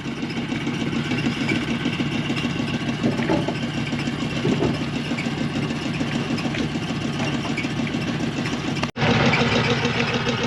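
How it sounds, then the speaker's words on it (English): A direct-feed compressor runs aboard a boat in Mexico's Sea of Cortez, giving off a continuous loud mechanical drone with a steady rumble. It cuts out for an instant near the end, then carries on. "As long as their compressor keeps working."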